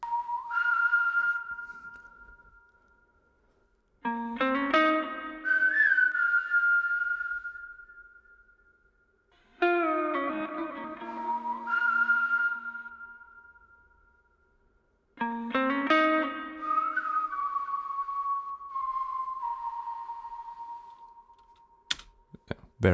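Remixed track with a whistled melody over a guitar counter melody, heard in three long phrases with distinct starts and a brief sharp click at the end, no talk.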